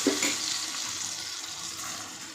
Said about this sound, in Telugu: ఆయిల్ అనేది తాగింది కాబట్టి చిటపట చిటపట అంటున్నాయి